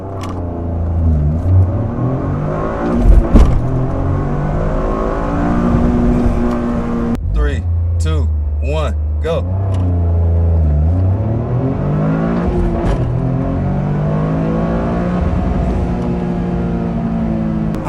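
A Toyota GR Corolla launching hard in a 0-60 run, its engine loud and close as it revs up through the gears, with sharp breaks at each shift and rising pitch after every change.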